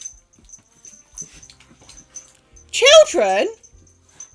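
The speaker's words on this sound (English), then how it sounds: "apologise for the dogs, because it's got cooler and they have now got energy" Dogs play-fighting in the middle of a floor, letting out a loud burst of growls and whining yelps near the end after quieter scuffling; a person calls out over them.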